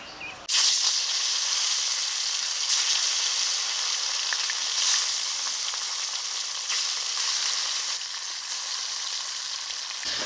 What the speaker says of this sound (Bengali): এই তেলে লবণ হলুদ মাখানো মাছগুলোকে ভেজে নেব